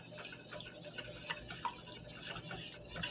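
Spoon stirring spices and onion powder into pasta sauce with honey in a pot, a faint continuous scraping swirl with soft irregular clinks, no talk.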